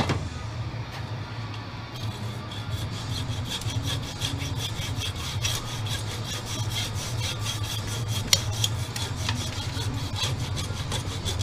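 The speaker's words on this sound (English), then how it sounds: "This hacksaw blade has cut a lot." A hacksaw cuts through the circuit board of a Brother Intellifax 770 fax machine in steady, rhythmic back-and-forth strokes, close and moderately quiet, with no talking.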